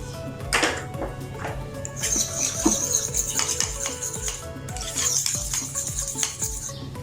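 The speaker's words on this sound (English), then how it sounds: "garlic mayonnaise, you can take that, and just add a pinch of salt and pinch of black pepper. We'll mix them" Garlic mayonnaise being mixed with salt and black pepper for a chicken sandwich: a spoon clinks and scrapes against a bowl in irregular taps and stirring strokes, close and fairly quiet, with no voice.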